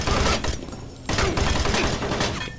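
Gunfire in the video game Doom 3, a loud burst of rapid shots, a brief pause near the one-second mark, then more sustained firing.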